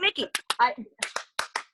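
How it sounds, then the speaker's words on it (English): Hand claps during a lagging video call land as sharp, scattered slaps between and under a person's speech, loosely spaced rather than in a steady beat. "Okay, you sing and I'll clap."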